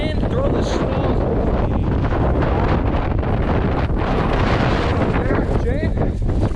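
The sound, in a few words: wind blowing into the microphone by the Chicago River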